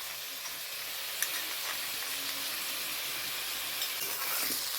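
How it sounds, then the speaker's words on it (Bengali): Ground onion, ginger and garlic paste frying with raw papaya pieces in a pan, a continuous fairly quiet sizzle and hiss with faint stirring clicks, close by and without speech. "তো এখন আমি এই পেঁপের সঙ্গে এই বাটা মশলাগুলো একটু ভালো করে ভেজে নেব।"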